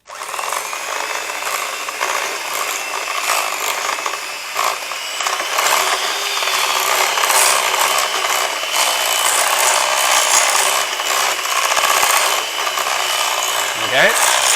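Strawberry polenta cake batter is mixed with milk in a bowl, giving a loud, close, continuous scraping and rattling churn that runs steadily throughout with no pauses, and no talking.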